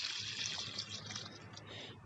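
Water pours steadily onto a compost bed in a home garden, a faint continuous splashing hiss with no voices over it.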